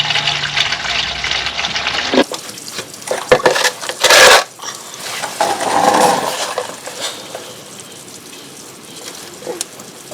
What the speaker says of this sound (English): So now that can sit there draining.